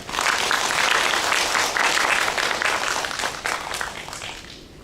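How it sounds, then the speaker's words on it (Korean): A conference audience at a game developers' event breaks into dense, sustained applause, loud and close at first, then gradually thinning and fading out over several seconds. "고생해주신 두 분께 박수 부탁드립니다"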